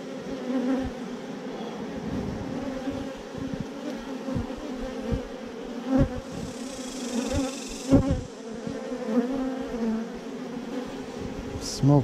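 Honey bees hum and drone steadily around an open hive during a beekeeping inspection, a dense close buzz with occasional louder passes and faint handling knocks.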